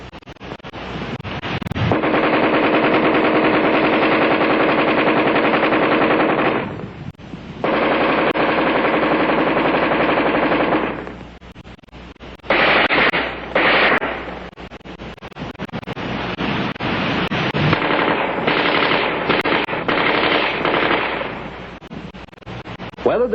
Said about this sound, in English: offhand firing against a man-sized target at combat range, the AR-10 is in a class by itself.